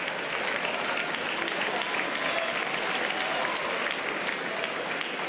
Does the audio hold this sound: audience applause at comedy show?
yes